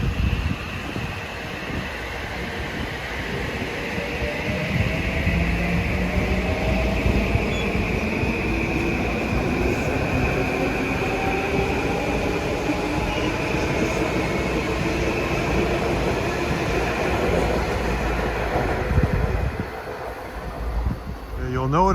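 A New Haven line commuter train to Grand Central passes at Mamaroneck in a long, loud, sustained rumble and rush with wheel noise, swelling and fading over about twenty seconds.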